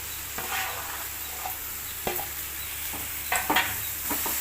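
Coriander stems sauté in a pan, a soft continuous sizzle broken by scattered scraping and clinking of a spatula against the pan, with a few sharper knocks near the end; no one speaks.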